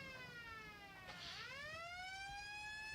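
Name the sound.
sirens of approaching emergency vehicles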